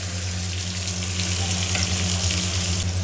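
Thinly sliced onions dropped into a pan of roasted coriander: a loud, continuous sizzle and crackle of frying in hot oil, steady throughout with a low hum beneath.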